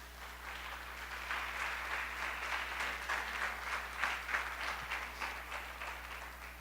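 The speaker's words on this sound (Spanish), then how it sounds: "Dale un aplauso a Jesucristo" A church congregation applauds Jesus Christ in a sustained burst of dense clapping, fairly close and moderately loud, swelling slightly in the middle and running several seconds without speech.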